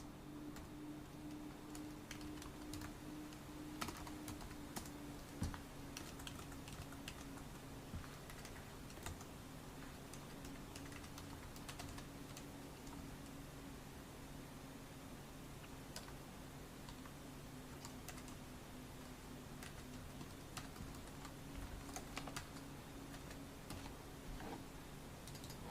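Steady typing on a computer keyboard during C++ programming work, a continuous run of close, quick key clicks over a constant low hum for the whole stretch, with no talking.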